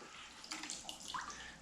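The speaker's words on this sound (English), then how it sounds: "I just throw that fat into the water" Pork fat trimmed from a side of pork is tossed into water, giving a faint, short splash and brief gurgle at close range, with nobody speaking.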